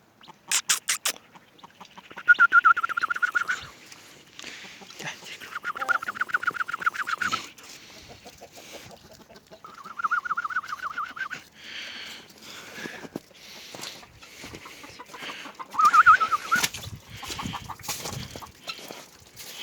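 Several chickens cluck and squawk in short bursts, fairly close, with quieter scratching and pecking sounds between calls.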